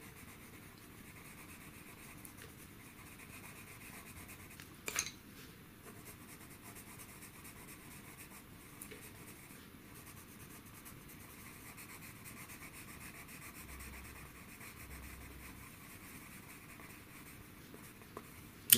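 A colouring pencil scratches steadily across paper as green is laid onto a cartoon drawing, a faint continuous rubbing texture, close and quiet, with one brief sharp knock.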